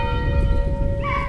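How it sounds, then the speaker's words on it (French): Church bells ringing in the French countryside, a sustained metallic tone with ringing overtones over a low rumbling background, fairly loud and steady with no talk. "Ici, les cloches sonnent"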